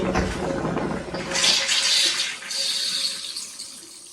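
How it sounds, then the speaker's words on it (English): Water gushes from an opened toilet tap, a steady rushing hiss that swells for a few seconds and then keeps flowing evenly, close by with no talk. "I went to my toilet now and I opened the water."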